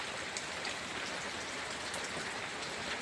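Steady rain falling over a garden in continuous dense patter, even and unbroken throughout, moderately distant with no voices.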